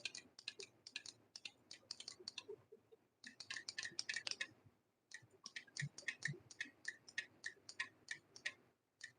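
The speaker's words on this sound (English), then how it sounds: "I can hear something clicking" Something clicks in quick, irregular bursts of sharp ticks, a faint close-up rattle with short pauses between clusters, heard alone in a quiet room.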